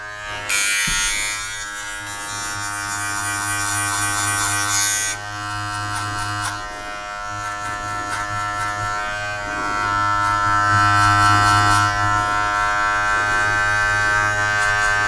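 Cheap electric hair clippers cut a taper fade, a loud, close, continuous motor buzz that drops briefly in pitch and level partway through, then resumes with slight variations as strokes change, with no speech.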